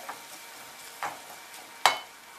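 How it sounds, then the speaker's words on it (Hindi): Garlic and ginger frying in a kadhai, a soft low sizzle with a few sharp scraping stir strokes, the loudest near the end, close and quiet with no voices. "लहसुन और अदरक भून चुका है गुलाबी हो गया"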